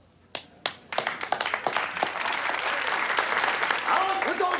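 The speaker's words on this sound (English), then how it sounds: "Out with those applauders!" Applause breaks out in a courtroom: a few scattered claps come first, then they swell into steady, sustained clapping with voices mixed in.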